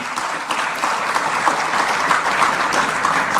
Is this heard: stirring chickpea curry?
no